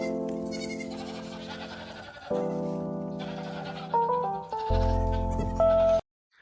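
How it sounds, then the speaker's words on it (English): Baby goats bleat in long, drawn-out cries, loud and close, one call running straight into the next before cutting off abruptly. "now he shows us some cute baby goats"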